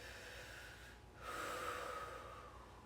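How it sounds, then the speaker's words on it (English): Deep breathing during a yoga class, a quiet inhale followed by a longer, louder exhale that rushes through the nose and mouth, close and alone. "Take 2 big breaths in and out"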